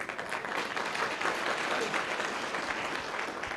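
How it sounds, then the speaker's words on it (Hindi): A hall audience at a motivational network-marketing talk breaks into applause: steady, fairly loud massed clapping that runs the whole short stretch with no voice over it. "ये तालियां मेरी बेबसी पर है।"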